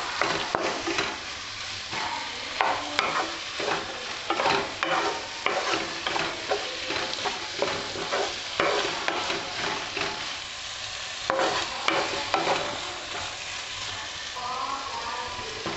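Vegetables for paneer jalfrezi being stir-fried in a pan, with steady sizzling and repeated scraping and stirring strokes throughout, fairly close and without talk.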